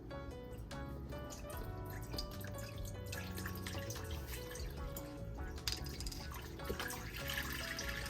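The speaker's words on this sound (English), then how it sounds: "first we're gonna put in this chicken broth." Chicken broth poured into a pot on a stovetop for homemade chicken and dumplings, a steady liquid stream with drips and splashes running continuously and fairly close throughout.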